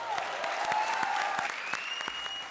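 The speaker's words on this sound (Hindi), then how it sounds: "जोरदार तालियां" Loud, sustained applause from a studio audience at a Hindi comedy show fills the whole stretch, dense and steady, with faint musical tones underneath.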